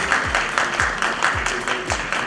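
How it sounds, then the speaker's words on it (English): Audience applause at a cultural generation launching ceremony in New York, a broad wash of clapping sustained through the clip, with rhythmic low thumps recurring beneath it. "Can we have a round of applause for them,"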